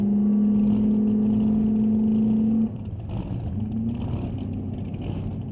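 A drag racing car makes a run at Mission Raceway Park, its engine a loud, sustained high drone that cuts off abruptly, leaving quieter, fading engine noise from a distance.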